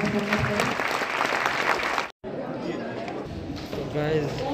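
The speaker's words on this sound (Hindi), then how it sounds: "एक बार जोरदार तालियों से आभार प्रकट करें।" A convocation audience in Darbhanga, Bihar, gives loud, sustained applause for the Governor, steady clapping with crowd chatter that breaks off briefly near the middle and then resumes.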